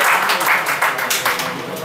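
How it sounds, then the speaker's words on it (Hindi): A crowd at an Urdu mushaira applauds to welcome a poet, a brief burst of close, dense clapping that tapers slightly over under two seconds. "तालियों की गड़गड़ाहट के साथ आप उनका इस्तकबाल फरमाएँ।"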